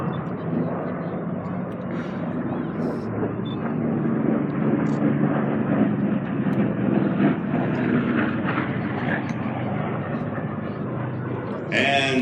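Grumman Avenger warplane passing overhead at an air show with bombers, a broad steady engine roar sustained throughout, with people talking over it.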